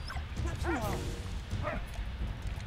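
A dog in the World War I video game Valiant Hearts gives a few short whining yips and a bark, mid-level and somewhat muffled, over a low rumbling game background.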